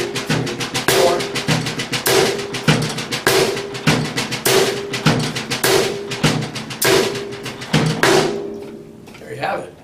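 A drum kit plays a steady, evenly spaced pattern of sharp hits on bass drum, snare and hi-hat, repeating about every half second and stopping near the end, with a voice heard alongside.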